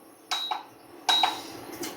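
A metal pan is set down on a stove with a few sharp clanks and ringing clinks, two louder contacts spaced about a second apart and a lighter tap at the end, close up and with no talking.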